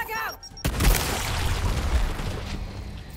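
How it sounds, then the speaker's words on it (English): Frag grenade explosion in the Gears Tactics video game: a sudden loud boom followed by a rumbling, crackling tail that lingers for a few seconds, preceded by a brief voice. "I'm tempted to throw a grenade in there, actually, just for fun"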